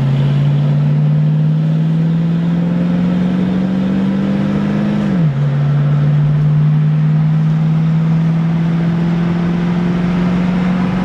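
A 1966 Mustang GT350 cruises down a road with its engine droning steadily and loud, pitch rising gently through a gear, a quick shift drop midway, then settling into an even cruise.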